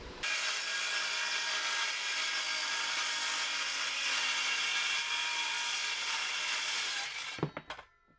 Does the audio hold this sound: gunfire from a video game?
no